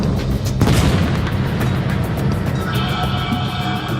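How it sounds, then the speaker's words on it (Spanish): Heavy booming gunfire from a World War II naval bombardment rumbles loud and close, one strong blast near the start followed by a continuous low roar of distant shelling. "Los primeros disparos."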